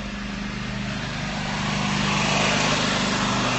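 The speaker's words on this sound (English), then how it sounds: "There's a lawnmower passing by." A lawnmower engine drones steadily outside, a continuous low hum with harmonic bands that grows slightly louder toward the end as it passes by, moderately distant with no talk.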